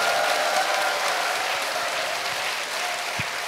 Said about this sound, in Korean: 우리 네 분 스님들께 다시 한번 큰 박수 부탁드리겠습니다